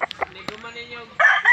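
A white rooster on a farm crows, a drawn-out call with harmonic bands, followed by a louder, harsher burst near the end, with a few short clucks and clicks early on.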